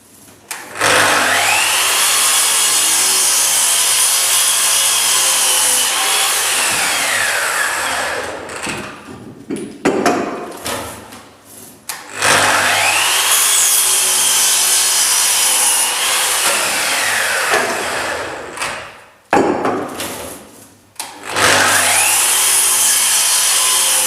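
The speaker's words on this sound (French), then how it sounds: "cet outil-là, si vous ne connaissez pas, c'est une ponceuse longue bande" A long belt sander runs in long, loud, steady passes across oak, with a droning whine that stops briefly between strokes before starting again.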